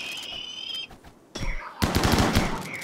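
Gunfire in the Rimworld video game during a colony fight, with a burst of rapid machine-gun-like shots followed by a dense, loud volley of repeated cracks, heard without talking.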